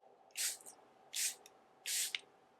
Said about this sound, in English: we're going to spray it with Charlotte Tilbury setting spray to melt all my creams into my skin